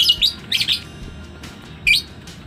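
Lovebird chick of a biola green and PBE wing pairing chirps while a leg ring is fitted, giving three short bursts of high, bright tweets close to the microphone, the last after a brief pause, over a low background hum.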